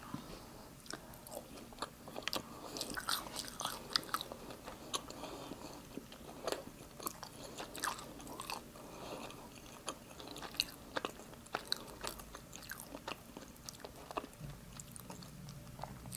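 Close, quiet chewing of a German pretzel at Oktoberfest, with repeated crunchy bites and soft mastication in an irregular rhythm, heard alone without talk.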